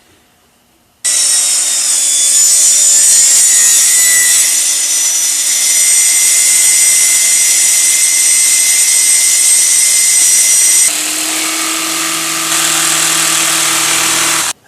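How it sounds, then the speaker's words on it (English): A jigsaw cuts a round hole in a photobooth panel, a loud steady buzzing drone with high-pitched blade whine running about ten seconds before the pitch and tone shift near the end, then it stops abruptly. "chose to cut this hole with a jigsaw since I didn't have a hole saw"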